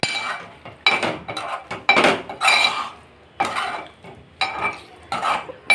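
A spoon scrapes and clinks against a pot while chicken liver fry is stirred, in repeated bursts of metallic scraping over a faint sizzle, with brief pauses between strokes.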